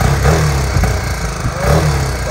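A BMW GS motorcycle engine revs loudly and close, rising and falling in a couple of throttle blips over a rumbling mid-pitched idle.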